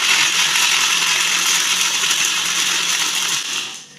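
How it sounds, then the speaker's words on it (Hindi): A blender runs steadily at high speed with a loud, gritty whir as ice and falsa berries are crushed for a sharbat, then the motor winds down at the end. "अब हम अपने ब्लेंडर को ढक्कन लगा के इसको ब्लेंड करने लगे।"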